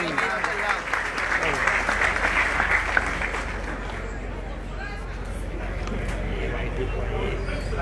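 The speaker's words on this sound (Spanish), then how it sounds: "Recibimos con un fuerte aplauso al pastor Waldo Castillo." Steady audience applause fills a crowded hall as a pastor is welcomed at a mayoral inauguration ceremony in La Romana, with crowd chatter mixed into the clapping throughout.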